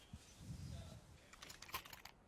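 Keyboard typing at a casting desk during a CS:GO match on Mirage, a quick burst of faint key clicks late in the moment over low background murmur.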